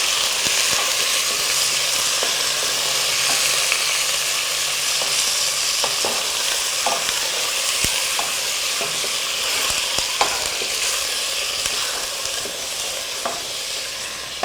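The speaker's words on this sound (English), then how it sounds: "Nice sizzle." Meat frying in a pot for jollof rice, a loud, steady sizzle with occasional stirring clicks and scrapes throughout, close up and without talk.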